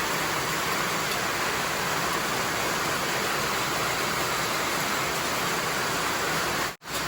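Heavy typhoon rain drumming down over a farm where sponge gourds are being harvested, a constant loud wash of noise that cuts off abruptly near the end.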